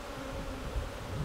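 Honeybees flying in and out of a crowded hive entrance, a steady low buzzing hum that stays close and even throughout with no talk over it.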